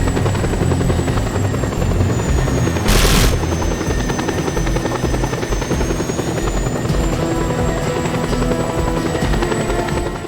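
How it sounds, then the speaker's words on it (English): Helicopter in Just Cause 2 heard as a loud, steady rotor thump and engine drone that holds for ten seconds, close and unbroken, with one brief burst of noise partway through. "I do see that there's a helicopter coming up."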